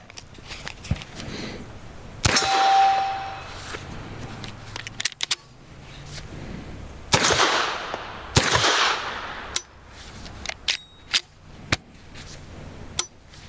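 Pistol shots from a Nomad Defense G26X crack sharply at irregular intervals, several loud reports with ringing tails suggesting hits on steel targets, interspersed with smaller clicks and handling noises.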